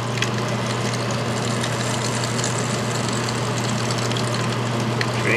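A pump motor drains a water main pit while sucking sand through its impeller, droning in a loud, steady, close-up roar with a constant low hum and no speech.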